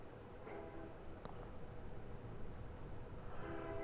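A train in the video game Kerbal Space Program rumbles steadily at low volume, with a faint horn sounding over the continuous rail noise.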